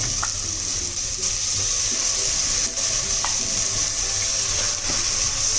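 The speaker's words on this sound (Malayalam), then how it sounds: "ഇനി ഇതിലോട്ട് മട്ടനെ കഴുകി വെച്ച മട്ടൻ ചേർത്ത് കൊടുക്കാം കേട്ടോ" Washed mutton, about half a kilo, going into a hot pan for biryani, crackling with a steady, close sizzle that runs throughout with faint stirring scrapes.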